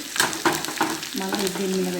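Oil sizzles and crackles as onion, garlic and dried red chillies are stirred in a hot pan, with a few sharp scraping strokes followed by a steady frying hiss.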